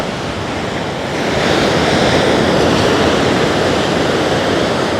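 Steady roar of sea waves and surf beside an old coastal temple near Tharangambadi fort, continuous broadband wash that swells slightly after the first second, loud and close with wind noise and no voices.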